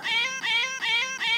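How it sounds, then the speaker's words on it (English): A cat meow sample repeats four times in an even loop, each bright, drawn-out cry loud and close with tiny gaps between. "So let's listen to our little kitty."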